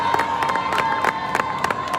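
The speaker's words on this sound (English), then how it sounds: "I want you to clap for the girls just this afternoon" Children at a school in Bo City, Sierra Leone, during a World Toilet Day event, clap and cheer for the girls, a dense crowd of young voices shouting over scattered sharp claps, loud and lively.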